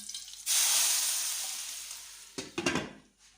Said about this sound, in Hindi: इसके अंदर हम डाल देते हैं अपनी मिर्चें और ज़ीरा और इसको हल्का सा फ्राई करते हैं